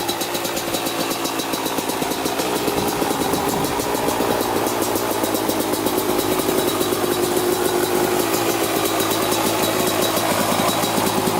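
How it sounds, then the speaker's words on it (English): A Kawasaki KX250 dirt bike engine idling high while warming up, a fast, even, buzzy putter held close and steady throughout, with no one talking. "Idling high until it warms up here."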